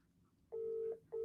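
A phone call rings out with a steady electronic ringback tone, two clear beeps separated by a short gap, heard alone at close range.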